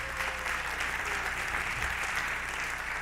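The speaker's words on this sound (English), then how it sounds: "yes, you can applaud" Audience applause at a school spring sports awards ceremony, a steady wash of many hands clapping in a hall, continuous and even for the full stretch with no voices over it.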